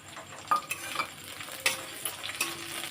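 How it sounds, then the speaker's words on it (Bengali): Onions sizzle steadily in a hot pan, with occasional scrapes and clicks of stirring over the soft frying hiss. "একটু ভালো করে ভেজে নেব পেঁয়াজটা"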